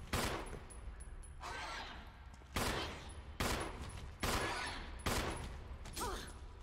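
Magnum revolver gunshots in a Resident Evil game, five heavy, close blasts about a second apart, each with a ringing decay, amid quiet game ambience.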